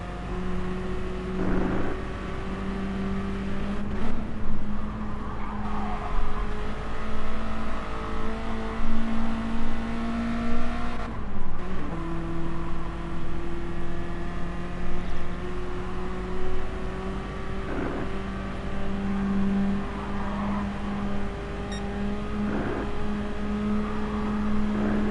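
TSR M3 race car lapping the Nürburgring in GT Sport, a steady engine drone with harmonic pitch rising through the gears and dropping sharply at each shift, loud and continuous with no talk.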